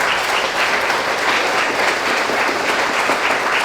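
An audience at a UK keratoconus patient-group conference in 2016 gives a round of applause: steady, even clapping from a full room that carries on without a break.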